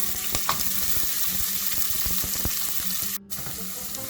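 Whole spices and cumin seeds sizzle in hot oil at the start of a chana masala, a steady close crackling hiss with a few faint stirring knocks and a brief dip near the end.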